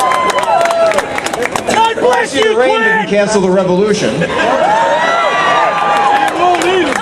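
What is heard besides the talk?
rally crowd cheering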